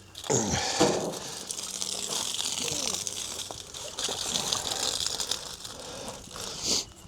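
Water drains and splashes out of the cooling system of a Ferguson TE20 tractor, a continuous gushing trickle with some metallic clinks and a brief louder splash near the end.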